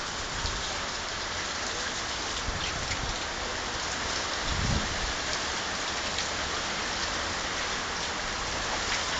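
Heavy rain pours down in Hermosillo, Sonora, during a July 2009 storm, a dense, even roar of drops on surfaces that stays steady throughout, with no voices.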